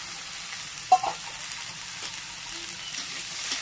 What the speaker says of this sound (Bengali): এবার কুমড়োর সাথেই একসাথে টমেটোটাও ভেজে নেব